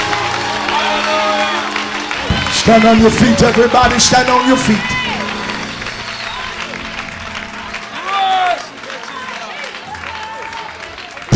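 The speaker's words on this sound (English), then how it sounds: "Clap your hands and give him glory." A church congregation claps and cheers during worship, with a crowd sound and whoops rising mid-way while a preacher's voice is heard loudly over it.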